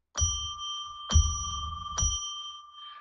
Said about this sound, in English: Then we're going to ring a bell to declare a sacred space.